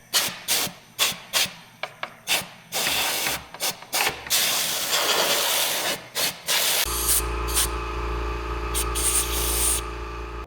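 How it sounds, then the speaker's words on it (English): Repeated short sprays of oil from a spray can onto tractor tail light parts, sharp hissing bursts close by, then a longer hiss and rubbing before a steady background hum takes over. "Give her a little shot of oil before I put it all back together."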